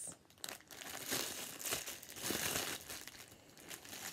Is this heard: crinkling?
yes